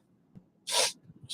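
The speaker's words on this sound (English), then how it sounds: "And I usually sneeze twice." A single sharp, breathy sneeze bursts out close to the mic after a quiet pause, with a faint start of another hiss at the very end.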